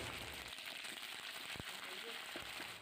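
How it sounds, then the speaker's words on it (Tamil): Ginger garlic paste being sautéed in oil in a pan, a steady soft sizzling hiss with faint crackles, continuous and fairly quiet. "பச்சை வாசனை போகிற வரைக்கும் அதையும் நல்லா வதக்கிக்கோங்க"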